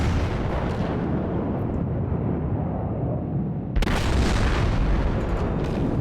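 Heavy naval guns boom in World of Warships, a loud sustained wall of low rumbling blasts with a sharp new salvo cracking in near the end, no talk over it.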